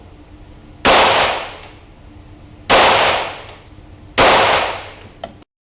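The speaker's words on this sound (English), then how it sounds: "we need to shoot a few rounds just to prep the barrel" Three loud, sharp .22LR rifle shots from Top Shot rounds, spaced about two seconds apart, each cracking close by and ringing off briefly, with faint mechanical clicks after the last.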